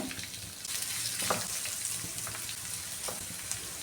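Sliced ginger sizzles and crackles steadily in hot coconut oil over a low flame, a close, continuous frying hiss with faint stirring and no voices.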